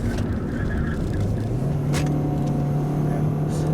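Audi A4 quattro B6 accelerating hard on the road, a steady engine drone rising in pitch with a gear change partway through, heard from inside the cabin with road rumble underneath.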